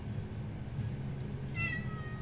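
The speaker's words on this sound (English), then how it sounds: "And my cat is crying at me." A female house cat gives a single short, moderately faint meow near the end, standing in front of an open door, over a steady low hum in an indoor room.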